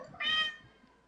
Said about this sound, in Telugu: పాపం అది మన ఇక్కడికి వచ్చిన పిల్లి అండి, వీళ్ళు వేసిన పిల్లి కాదు